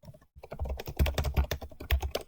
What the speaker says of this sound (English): Don't question my quick typing.